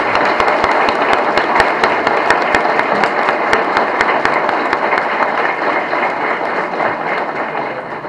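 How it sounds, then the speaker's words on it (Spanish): Audience applause at a formal legal conference fills the hall with sustained, dense clapping that stays loud and even throughout before easing slightly near the end. "les pido que lo recibamos con un fuerte aplauso"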